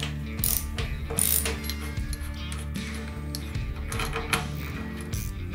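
A ratchet socket wrench, a 36mm socket with chamfered edges ground flat, works the fork nuts of a BMW R80 motorcycle, giving steady close clicking and metallic ratcheting over a constant mechanical hum.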